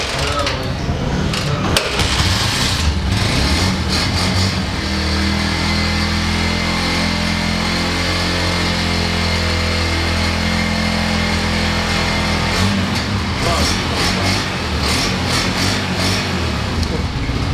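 A self-starting motorcycle engine, Yamaha V Star or Kawasaki Ninja, runs steadily at close range with a low, even idle rumble and a few revs, while people talk over it.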